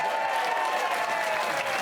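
Studio audience applause on a comedy panel show, a continuous wash of many hands clapping at moderate volume without a break, with faint crowd murmur underneath.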